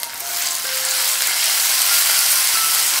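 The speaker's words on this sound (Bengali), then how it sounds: "টমেটোটা ভাজতে ভাজতেই বাকি মশলাগুলো দিয়ে দেব।" Chopped tomatoes with salt fry in a hot pan, a loud, close, continuous sizzle with a bright hiss and no voices.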